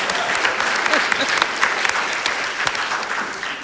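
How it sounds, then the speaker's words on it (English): Dense, sustained applause from a conference audience, with many hands clapping steadily at close range and the level holding throughout. "You can clap hands"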